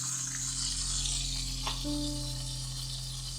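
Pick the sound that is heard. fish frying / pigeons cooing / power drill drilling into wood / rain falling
fish frying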